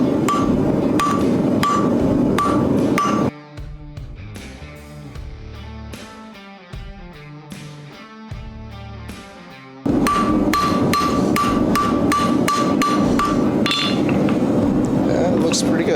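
Hot steel being hammered on an anvil to taper a cloak pin, with rapid, evenly spaced, ringing blows close by in two long bursts and a quieter tonal stretch between them.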